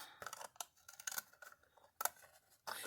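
Scissors cut through paper while a paper purse is being made: several short, crisp snips in quick uneven succession, close and clear, with no one speaking.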